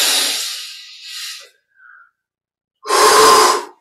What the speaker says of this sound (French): Maintenant, expire, rentrez le ventre.